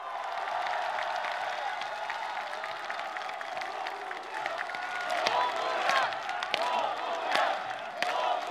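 A large crowd cheers and applauds at an outdoor gathering in Bongha Village for former President Roh Moo-hyun. Dense, steady clapping runs throughout, with whoops and shouts swelling near the end.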